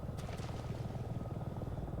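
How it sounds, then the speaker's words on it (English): A helicopter flies overhead in the video game Resident Evil 7, its steady low rotor chop rumbling continuously and fairly loud throughout, with no voices on top. "See, there's a helicopter."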